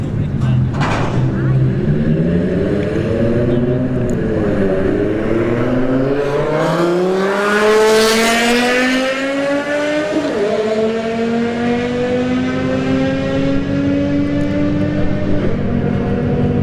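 Two BMWs launch down a drag strip at Bradenton Motorsports Park on a hot day, their engines climbing loud and rising through the gears in long sweeping pulls. The roar stays steady and close throughout.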